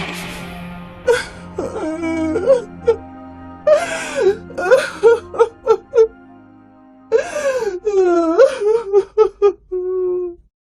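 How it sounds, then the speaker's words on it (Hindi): A cartoon woman sobs loudly and wails in a Hindi animated story, with rising and falling moaning cries broken by gasps and hiccuping breaths across several bursts. "गंगा फूट फूट कर रोने लगी।"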